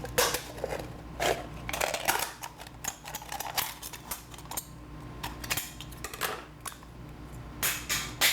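Scissors snipping through the bottom of a washed aluminum can, a series of sharp, close crunching cuts in an uneven rhythm, with no voices.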